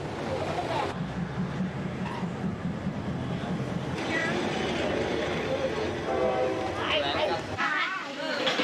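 A train rumbles past a Thai market set up beside the railway tracks with a steady, heavy roar and rattling, fading near the end, while voices murmur in the background.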